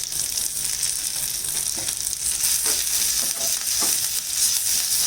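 Ginger, green chili, curry leaves and asafoetida crackle and sizzle in hot oil for a tempering, a dense, steady frying hiss up close with a few brief pops and stirring scrapes.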